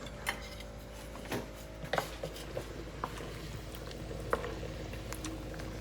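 A pot of brown stew with meatballs simmers at a low boil, a faint, close bubbling broken by sparse soft pops and ticks, with no talking.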